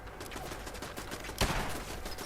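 Turret gunfire in Fallout 4 rattles in a quick string of shots, with one louder, sharper crack standing out near the middle.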